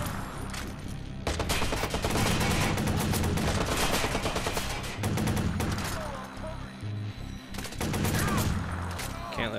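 Bursts of rapid gunfire crackle through a Watch_Dogs firefight in heavy, loud volleys with short pauses between them, over a constant game background.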